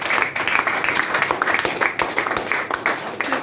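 An audience at a motivational program applauds a presenter with dense, rapid clapping that stays lively and fairly close throughout.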